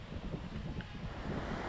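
Kali Gandaki river in Nepal's Mustang region, a steady broadband rush of flowing water mixed with wind buffeting the microphone, continuous and loud with no pauses.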